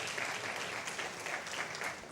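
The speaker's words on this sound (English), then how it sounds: "Big round of applause for Gerrit." Sustained applause from a conference audience, dense steady clapping at moderate loudness for a couple of seconds after a speaker is introduced, tapering slightly at the end.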